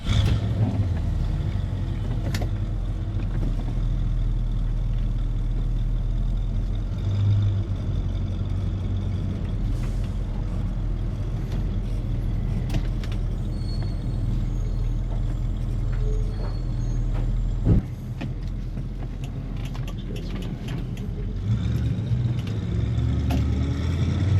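A 1968 Mercury Cougar on a test drive across the Plains, its engine rumbling low and steady with road noise throughout, with a brief dip in level partway through.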